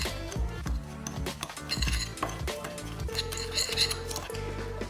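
A spoon clinks and scrapes against a bowl as salt, pepper, paprika, cayenne and thyme are stirred together, with a steady run of close metallic taps and rattles.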